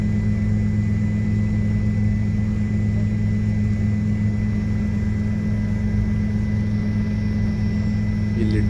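Helicopter cabin on a flight to Kedarnath, with a loud steady low rotor and engine drone and a constant hum that runs unbroken throughout, close and enveloping.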